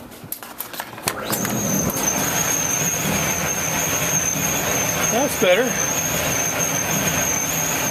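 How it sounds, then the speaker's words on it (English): A rebuilt Maytag DE7600 dryer starts up and runs with a steady rumbling drum, a high thin squeak from the belt persisting over it; a person speaks briefly partway through. "it sounds like the belt actually squeaking"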